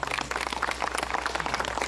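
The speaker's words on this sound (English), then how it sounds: "Can I have a round of applause for Haji Yaqub?" Audience applause at a live concert in Guyana as a guest is honoured: a brief, dense burst of many hands clapping at once, moderately loud throughout.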